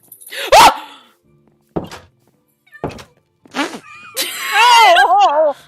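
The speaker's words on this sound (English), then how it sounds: "excuse my dog making sounds" A dog in the Minecraft video game gives a few sharp barks separated by gaps and a few dull thumps, then a longer run of wavering whines, loud and close.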